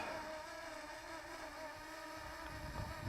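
A DJI Mini 2 drone flying in strong wind gives a steady, high-pitched propeller whine with overlapping tonal bands, blended with constant wind rumble on the microphone; the sound stays continuous and fairly faint throughout.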